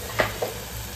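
Homemade ghati masala with turmeric frying in a pan: a faint steady sizzle with two brief stirring scrapes near the start.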